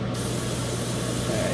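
Spray paint hisses steadily onto Gundam model kit parts still attached to the runner for the High Grade Black Knight Shive, a close, continuous aerosol rush with no pauses.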